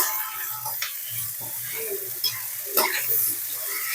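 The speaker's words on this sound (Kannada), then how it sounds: "ರುಚಿಗೆ ತಕ್ಕಷ್ಟು ಉಪ್ಪು ಹಾಕೊಂಡು ಫ್ರೈ ಮಾಡ್ಕೊತಾ ಇದ್ದೀನಿ" Food fries in a pan while salt goes in for a Bombay sagu, a steady close sizzle broken by soft stirring scrapes throughout.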